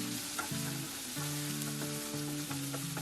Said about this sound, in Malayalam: അല്പം കറിവേപ്പില, 1/2 ടീസ്പൂൺ ഉപ്പ്, ഇത്രയും ചേർത്ത് നന്നായിട്ടൊന്ന് വഴറ്റിയെടുക്കുക.